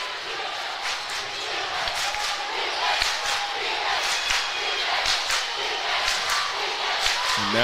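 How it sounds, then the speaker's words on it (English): A high school basketball crowd from Bryan Station cheers and yells in a gym, a steady roar of many voices with scattered whoops and shouts rising throughout. "Now the Station crowd gets involved."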